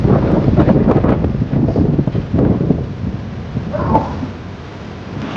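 Strong gusts of wind buffet the microphone in a heavy, rumbling rush that eases slightly toward the end.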